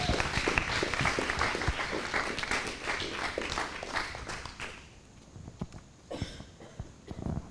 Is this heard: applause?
yes